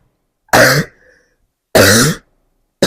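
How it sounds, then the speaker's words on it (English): Two loud, close throat-clearing coughs, harsh and abrupt, separated by a short pause, with the start of a third at the end. "I have to cough so bad"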